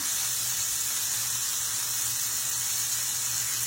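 Cube steak fries in oil in a big cast iron pan, giving a steady, close sizzling hiss with no break.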